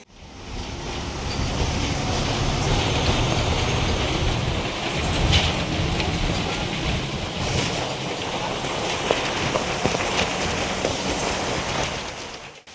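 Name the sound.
light drizzling rain at village bus stop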